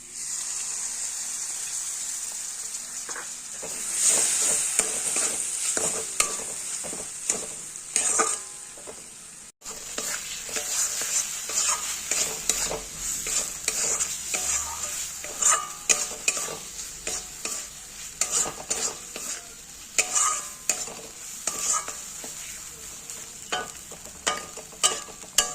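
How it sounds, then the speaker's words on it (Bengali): Masala spices being sautéed and stirred in a pan for katla fish curry, a steady sizzle and fry hiss broken by frequent scraping strokes of the spoon, close and fairly loud throughout with no voices. "মশলা কষানো হয়ে গেছে"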